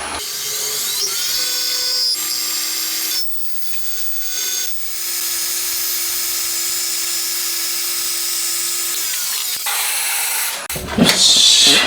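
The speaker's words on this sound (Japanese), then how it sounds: "では、ここの単面を一旦ちょっときれいにしますね。" Lathe facing cut across the end of a metal top bridge for a Honda RC146 replica, a steady close whine with a high hissing tone that holds for several seconds before stopping, then a brief clatter at the end.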